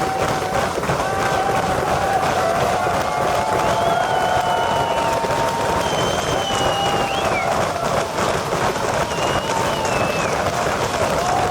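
Large crowd cheering and applauding at a solar car race finish line in Victoria Square, a city centre in Australia, with a steady dense roar of voices and clapping throughout and occasional whistles or shouts rising above it.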